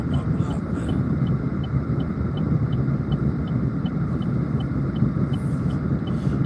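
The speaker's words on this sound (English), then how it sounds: "There's a lot of traffic on my block," Continuous road traffic on a residential city block forms a dense, unbroken low roar that stays level throughout, with no clear individual vehicles.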